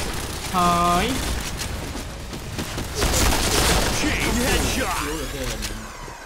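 Bursts of game gunfire and booming blasts mixed with electronic effect tones, loud and busy, with a voice talking over the action.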